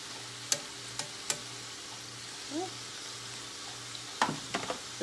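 Chiacchiere pastries fry in hot oil with a soft steady sizzle, interrupted by several sharp clinks and scrapes of a utensil and a brief murmur of voice.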